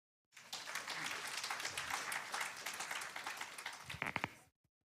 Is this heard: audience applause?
yes